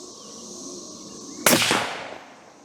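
A single sharp, loud CVA Cascade Long Range Hunter rifle shot cracks out at a shooting range during sighting in, following a quiet lead-in, with its report decaying over about a second.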